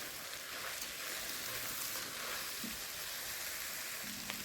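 Food frying in a pan while being stirred, a dense continuous sizzle with occasional soft scraping, close but quiet, no voices.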